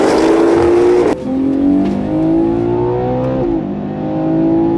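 A Porsche Cayenne Turbo GT SUV accelerates hard in a drag race, its loud engine climbing through rising gear pulls with sharp shift breaks, close and alone.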